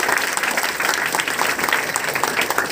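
Applause from a college audience at a lecture on minorities in nation building, a steady dense patter of many hands clapping throughout at moderate level.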